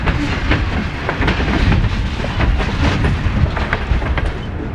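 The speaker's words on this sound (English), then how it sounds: "our train navigates the dips and rises" Train wheels clatter steadily over rough, dipping Goose Lake Railway track on the Lakeview Branch, a loud continuous rumble with rhythmic clickety-clack rising close by throughout.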